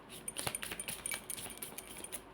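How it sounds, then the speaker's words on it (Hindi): Tarot cards being shuffled, a quick run of soft flapping riffles and light clicks lasting a couple of seconds, close but faint. "My last shuffle."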